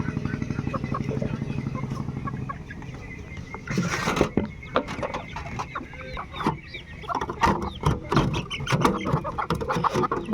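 Chickens cluck and squawk in bursts, growing busier and more agitated toward the end, with a person talking and some rustling mixed in.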